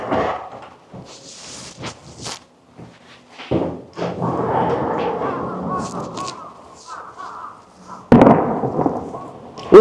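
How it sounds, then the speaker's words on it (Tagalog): Irregular booms and crackling pops from fireworks in Abashiri, Hokkaido, Japan, some sharp and close, others duller, with a few crow-like calls and brief voices mixed in. "Uy, may fireworks!"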